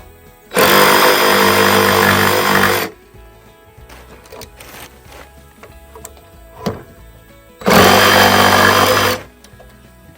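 A variable-speed power saw running alongside a wind blower on a house framing site where rafters and subfloor go in: two loud, steady motor bursts of a few seconds each, separated by quieter workshop clatter and handling noise.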